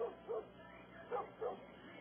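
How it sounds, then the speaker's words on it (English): A dog gives several faint, muffled barks and yips in quick pairs, heard at a distance. "The dog was quite unusual."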